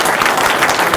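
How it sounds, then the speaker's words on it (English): Loud, close applause from a crowd at a hockey team press conference, a brief burst of dense clapping. "Round of applause for that."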